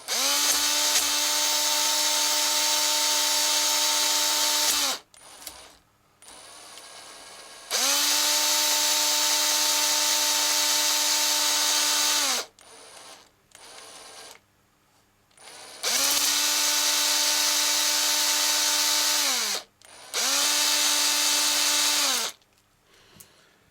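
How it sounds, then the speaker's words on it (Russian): A cordless drill spins an engine cylinder hone at low speed, its motor whining steadily in four long, loud runs of several seconds each, separated by short pauses with faint scraping and clatter. "на первой скорости шуруповерта, не до конца выжав кнопку, потихоньку начинаем, включаем"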